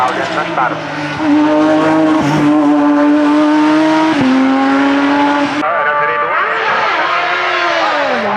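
A loud Porsche race car engine screams close by at a hill climb race, its pitch climbing and dropping through several gear changes as it accelerates.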